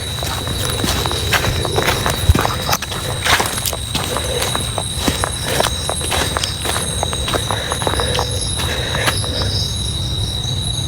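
Rhythmic hoof clip-clop of a horse in a forest, sharp repeated knocks over a steady low rumble, with a thin high tone running throughout.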